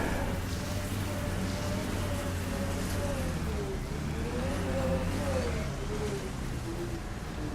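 A vehicle drives across alien terrain in Mass Effect: Andromeda, a steady low engine drone with rising and falling whine as it accelerates, continuous and even throughout.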